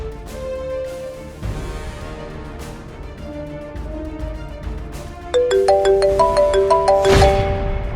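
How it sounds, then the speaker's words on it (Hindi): A mobile phone ringtone for an incoming call plays as a melodic electronic tune, starting quieter and then turning loud with rhythmic repeated chiming notes. "किसका फोन है? मेरे पति का कॉल है"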